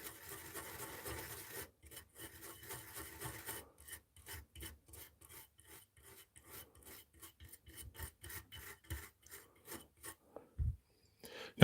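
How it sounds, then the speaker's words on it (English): A fibre pen scrubs dirt off an archaeological artefact in quick, close, raspy strokes, a rapid rhythmic scratching that speeds up and pauses, ending with a soft tap. "The fibre pen does a really good job of removing that."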